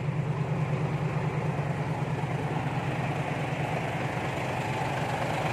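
A tuned truck engine idles with a soft, even low throb, close and constant throughout.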